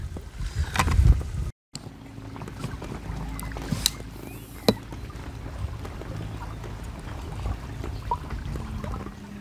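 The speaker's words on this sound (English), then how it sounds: "About to go through some blanket weed. There it is. Wrapped around the propeller now" A small dinghy outboard on a quiet canal churns and labours as blanket weed fouls its propeller, a low uneven motor rumble with wind buffeting and a few sharp knocks.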